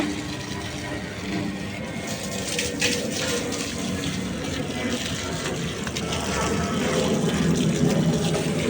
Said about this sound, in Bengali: ফুলের গাছগুলোতে পানি দিব